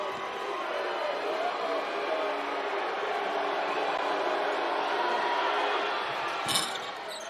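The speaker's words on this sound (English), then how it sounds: "Burns takes a seat to a round of applause." Applause from a gym crowd at an alumni basketball tournament game, a steady broad wash of clapping and crowd noise lasting throughout, with a brief sharp thump near the end.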